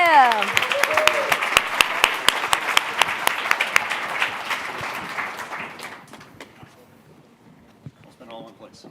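Audience applause at the ASU Innovation Open 2024 awards event, a dense burst of clapping and cheering that thins out into scattered claps and fades, with voices talking in the room.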